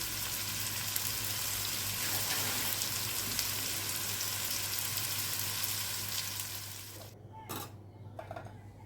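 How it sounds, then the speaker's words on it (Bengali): Potatoes fry in mustard oil in a kadai with a dense, steady sizzle that fades out near the end, followed by a couple of short handling sounds. "আমি প্রথমে আলুগুলোকে ভালো করে তেলে ভেজে নিয়ে"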